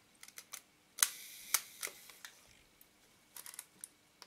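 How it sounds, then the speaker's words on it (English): The shutter of an Olympus 35 RD camera is pressed repeatedly, giving a series of sharp mechanical clicks. A few of them are louder and snappier, separated by softer ticks and small handling noises in a quiet room. "when I press the shutter button, the aperture will open"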